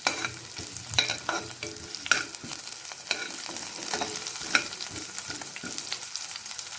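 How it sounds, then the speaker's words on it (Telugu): Cumin seeds, shahjeera, and green and dried red chillies fry in oil for jeera rice. A continuous crackling sizzle sits close, and intermittent taps and scrapes of stirring come through it, with no voices. "జీలకర్ర, షాజీరా, పచ్చిమిరపకాయలు, ఎండుమిరపకాయలు ఇవన్నీ ఫ్రై చేసుకోవాలి."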